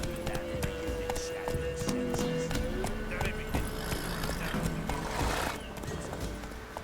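Horse hooves galloping in the Witcher 3 video game, rapid clip-clop beats under game music and ambient noise, with voices speaking briefly.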